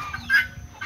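A young Índio Gigante rooster, nearly a year old and 1.08 m tall, lets out one brief throaty cluck up close, heard alone in under a second.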